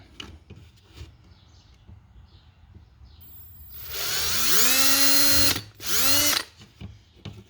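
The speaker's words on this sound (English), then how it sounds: "take your drill and a really small drill bit just to get started and drill the holes" A power drill with a small bit drills holes in plastic for a Ford F150 dash mount, spinning up with a rising whine and running loudly for about two seconds, then a second short burst, close by after quiet background.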